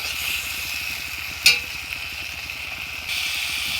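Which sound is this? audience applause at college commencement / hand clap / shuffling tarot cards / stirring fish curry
stirring fish curry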